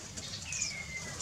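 Pigeons in a home aviary coo softly amid a steady bed of bird chirps, with a faint whistling trill rising and falling through the middle, all at low level with no talk.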